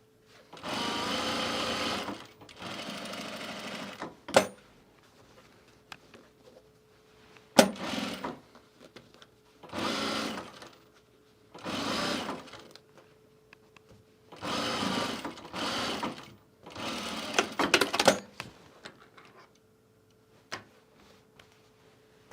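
A sewing machine stitches fabric with elastic in several separate bursts of fast mechanical whirring, close and fairly quiet, with short pauses between runs as the fabric is adjusted.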